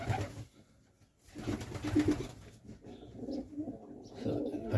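Serbian Highflyer pigeons, a cock bird with a young hen, cooing in low throaty bursts close by, with soft rustling between calls.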